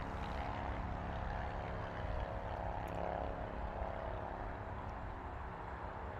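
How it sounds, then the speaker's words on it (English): A China Cargo Boeing 777 freighter arrives at Toronto airport, its jet engines producing a steady, distant broadband roar that holds evenly throughout without talk. "That's China Cargo from Anchorage, Alaska."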